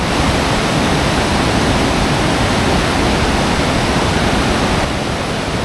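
Rushing river water near a hydroelectric station at Castril: a loud, dense, unbroken roar of churning water, close and steady throughout with no voices.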